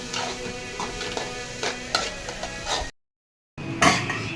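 Onions and beef frying in a pan for a beef roast, with repeated scraping stirs and clinking utensils over a steady close sizzle, cut by a brief gap of silence before stirring resumes.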